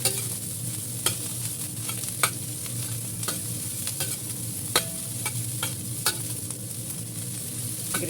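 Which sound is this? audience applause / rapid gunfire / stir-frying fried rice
stir-frying fried rice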